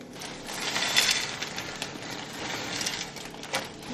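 Scissors cut open a plastic pack of frozen carrots, corn, green beans and peas, making a run of crisp snipping and crinkling clicks nearby, with no voices.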